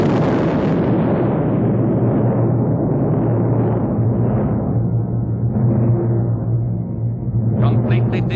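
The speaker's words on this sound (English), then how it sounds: "this bomb, by its very size and penetration, will explode deep underground and cause a local earthquake" A large bomb detonating deep underground in a 1942 Disney wartime film, heard as a continuous, heavy low rumble that rolls on for several seconds with a dense, dark roar, broken near the end by a few sharper crackles.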